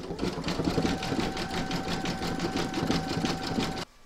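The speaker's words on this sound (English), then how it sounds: "You can now pop that into your machine and stitch round number 20 to secure it. And that's going to zigzag along here." An embroidery machine zigzag-stitches a large reindeer appliqué with a steady, fast mechanical whirr and rhythmic needle clatter, loud and close, running continuously before stopping abruptly near the end.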